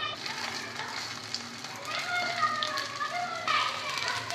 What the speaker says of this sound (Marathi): कटलेट्स आपण फ्राय करायला ठेवलेले आहेत